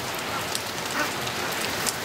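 Steady, heavy rain pours down, a dense hiss of drops hitting the ground with no voices.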